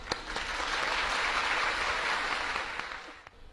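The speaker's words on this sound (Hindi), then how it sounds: "तालियों से स्वागत" Applause from an indoor audience welcoming a guest onto the stage, a broad wash of clapping that swells, holds steadily and then fades near the end.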